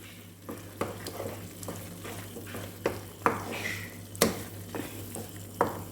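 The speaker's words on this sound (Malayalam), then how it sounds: "ഇട്ട് കൊടുത്ത് വീണ്ടും നന്നായിട്ട് ഇളക്കണം." Jackfruit halwa is stirred in a pan with ghee-fried cashews and raisins, giving quiet, rhythmic scraping strokes against a soft sizzle.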